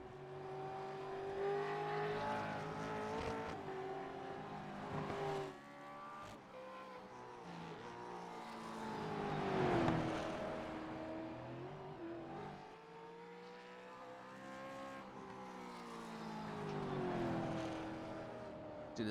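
Race cars lapping Lime Rock Park in the iRacing simulator, engines revving and rising and falling in pitch as they brake and accelerate through corners, a continuous loud drone with no talk.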